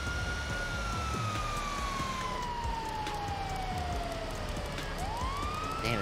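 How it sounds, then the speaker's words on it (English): Police siren wail in GTA Online, a single long tone sliding steadily downward over several seconds, then sweeping back up near the end, steady and fairly loud over low road and engine rumble. "Put the sirens back on."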